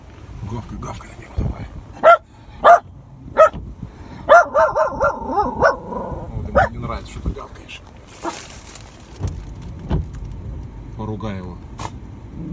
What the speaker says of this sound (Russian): Иди погавкай на него.